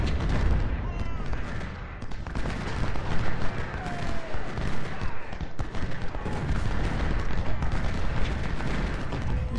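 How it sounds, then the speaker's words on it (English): Cannons and rifles boom and crackle continuously in a Civil War battle game, a dense loud barrage of overlapping shots filling the whole stretch with no talk. "we also have a bunch of artillery firing on Leisure"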